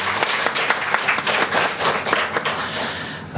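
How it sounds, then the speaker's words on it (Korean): A church congregation applauds to welcome visiting relatives of a member during a Korean service, a dense, steady wash of many hands clapping with some louder individual claps standing out, continuous throughout. "우리 다 같이 박수로 환영하겠습니다"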